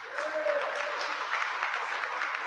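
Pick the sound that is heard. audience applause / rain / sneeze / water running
audience applause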